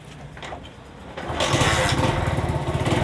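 A motorcycle engine cranks and catches after a second of quiet, then settles into a loud, steady, rapid idle chug close by, running alone to the end.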